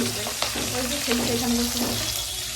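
Food frying in a pan on a home kitchen stove, a steady close sizzle with light stirring scrapes and faint tonal sounds throughout.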